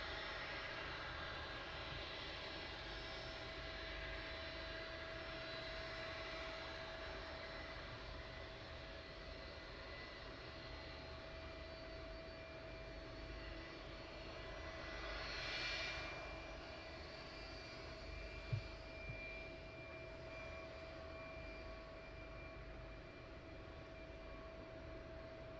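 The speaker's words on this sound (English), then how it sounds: "And then we'll pan around to the next aircraft taxiing off." An aircraft taxis at East Midlands Airport at night, its engines a steady, fairly distant drone that swells briefly midway, with one short knock and no speech.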